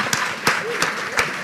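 Audience at a 2026 event clapping in a short, sparse patter, a few distinct hand claps standing out over a soft murmur.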